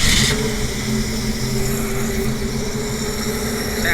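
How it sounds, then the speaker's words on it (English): A 1954 Chevrolet Bel Air's engine runs with a steady, smooth, loud purr and low hum, heard close up and continuously with no talking. "Sam, back in the day they talked about engines purring. Listen to this one purr."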